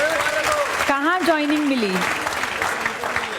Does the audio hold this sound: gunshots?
no